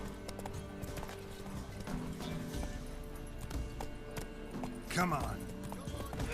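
Roach the horse gallops in The Witcher 3, with steady, close hoofbeats clopping under loud talk and a short whinny-like burst near the end.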